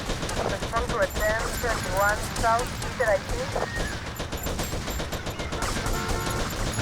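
Rapid bursts of gunfire crackle continuously, mixed with game sound effects from GTA Vice City, while a voice talks over the shooting.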